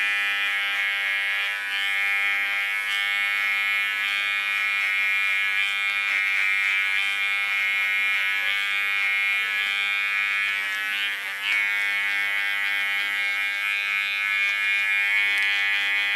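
Electric hair clipper running steadily during a nape shave on a long bob haircut, a continuous close buzzing hum with a brief dip near the end, no talking.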